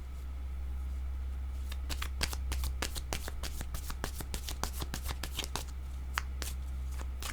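Tarot cards are shuffled close up in rapid riffling flicks and soft slaps over a steady low hum, with no talking.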